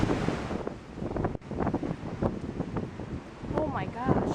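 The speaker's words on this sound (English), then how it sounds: "the wind is blowing in another direction" Strong wind during Hurricane Maria roaring and buffeting the microphone continuously, loud and close, with a person talking over the gusts.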